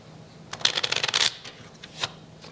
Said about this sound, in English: Now, this is an honest shuffle.